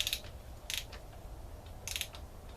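Ratchet clicks from hand-tightening cylinder head bolts on a new VTEC engine head for a Honda Accord wagon, three short bursts of quiet clicking spaced apart with a low hum between, no talk.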